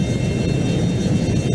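A steady, loud jet engine roar from an F-22 in the flight combat game F22 Total Air War, a continuous whooshing rumble with a faint high whine and no talking.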